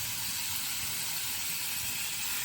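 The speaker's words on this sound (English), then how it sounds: "Sizzle, baby, sizzle." Chicken seasoned with Greek seasoning and chili flakes sizzles in a hot pan for pollo asado tacos, giving a steady, even hiss that fills the whole moment at a low level.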